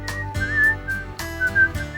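A man whistles a melodic tune in short rising and falling phrases, over a warm music bed that plays throughout, close and clear.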